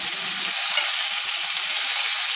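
Sweet Italian sausages browning in a pan, a loud, dense, steady sizzle running throughout with a few soft knocks beneath it, no talking.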